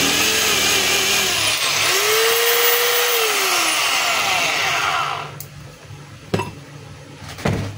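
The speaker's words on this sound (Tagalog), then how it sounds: "yun yung drill. Wala siyang hammer pero umiikot pa rin siya." A DeWalt D25133 rotary hammer running in drill-only mode makes a loud steady motor whine with a rising-then-falling pitch. It cuts off after about five seconds, and a few metallic clinks follow.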